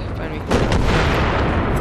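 A grenade blast in Battlefield 3 on Karg Island erupts loud and close, a sharp boom giving way to a rumbling roll that sustains to the end, with combat noise beneath.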